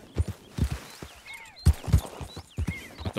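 Horse hooves clip-clop at a steady walking rhythm in the Red Dead Redemption 2 video game, fairly close and clear, with occasional faint chirps and ambient game sounds between the footfalls.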